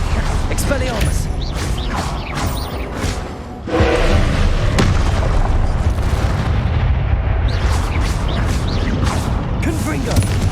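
Blast spells explode repeatedly in a spellcasting duel in Hogwarts Legacy, loud booming thuds and crackling bursts following one another closely, with a brief dip before a heavier blast around the middle.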